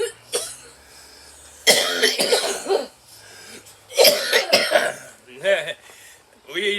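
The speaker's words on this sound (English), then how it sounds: "COVID got me coughing." A man with COVID coughs harshly in several bursts with throat clearing, talking between them.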